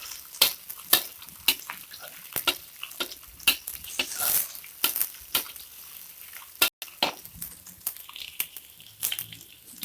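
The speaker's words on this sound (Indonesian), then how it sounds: "Kita tumis bakso yang sudah diiris." Sliced meatballs are stir-fried in a pan, giving a faint background sizzle broken by repeated sharp scrapes and clacks of a spatula against the pan. No one speaks.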